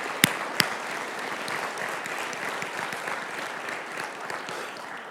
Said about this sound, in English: how about a big round of applause for all of our speakers and presenters for the last 2 days